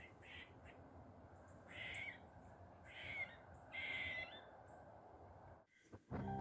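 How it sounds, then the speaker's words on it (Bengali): Squirrels call from a tree beside a woodland trail on a bitterly cold day: four short, harsh, raspy bursts at a moderate distance, separated by pauses, over faint outdoor ambience, then a brief rustle at the end. "তো এই কাঠবিড়ালি দুটোকেই দেখলাম ওরাই ডাকছে"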